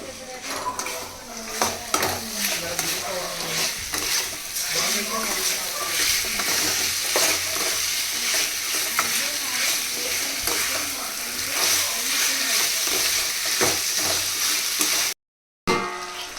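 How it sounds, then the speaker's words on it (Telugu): Chicken pieces coated in ginger-garlic paste deep-frying in hot oil on a high flame for gongura chicken, with steady loud sizzling, stirring scrapes and utensil clinks throughout under occasional speech, then a brief cut near the end. "ఆయిల్లో మన చికెన్ అయితే డీప్ ఫ్రై అయిపోతుంది."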